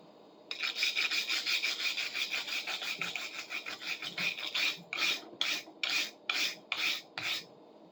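A four-in-hand rasp filing with steady back-and-forth strokes, a dense continuous rasping that breaks into slower, distinct strokes toward the end, close and loud with no talk.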